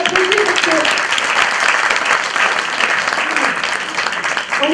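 An audience warmly applauds a family group of musicians, sustained dense clapping at full volume with scattered voices and brief vocal sounds over it.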